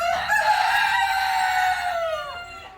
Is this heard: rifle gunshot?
no